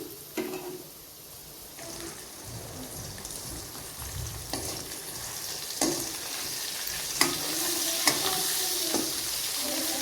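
A pan of Telangana-style curry ingredients frying in oil, with a steady low sizzle broken by occasional stirring scrapes and clinks, close and moderately loud, with no one speaking.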